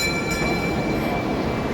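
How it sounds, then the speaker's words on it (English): A train rumbling past at close range near Dubai Marina, a loud continuous roar with faint metallic wheel squeal, no voices. "Hey, choo-choo train."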